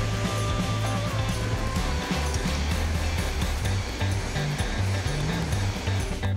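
Waves wash continuously at Tamborasi beach in Kolaka, near the mouth of a very short river, a loud, dense and steady roar of surf and flowing water with no talk.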